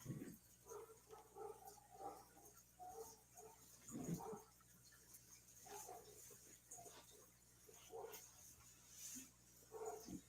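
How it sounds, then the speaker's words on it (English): A dog barks and whimpers faintly in the background of a talk show recording, in short irregular bursts under a constant hum. "Shut that dog up!"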